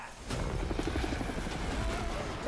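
A stolen helicopter in a Beverly Hills Cop movie trailer roars in suddenly with a steady, rapid rotor thump and engine buzz that holds close and loud for a couple of seconds.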